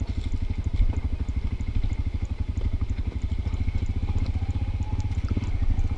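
Motorcycle engine idling while engine-braking down a steep hill on a remote road in Vietnam, a steady close low throbbing putter with even rapid pulses running throughout, no talk.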